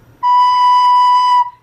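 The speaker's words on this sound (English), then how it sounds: "That's the kind of sound that we want to have on our recorder." Recorder playing one steady held note with slow, warm breath, a pure, clear tone lasting about a second, loud and close in silence.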